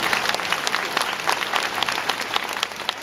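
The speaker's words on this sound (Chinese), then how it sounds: "请他掌声鼓励。" Dense audience applause at a temple festival gathering honoring a performer with a physical disability, steady and loud throughout with individual claps standing out, no talk over it.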